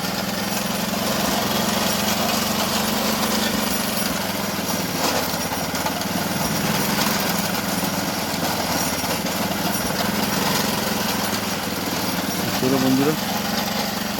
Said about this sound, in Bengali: আখের রস বানাচ্ছে পুরো একদম মোটর সেট করা